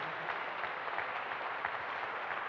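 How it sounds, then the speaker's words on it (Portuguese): A church congregation applauds during an evangelistic worship service, a steady, moderately distant patter of many hands clapping together for a few seconds with no break. "Aplauda o Senhor mais uma vez"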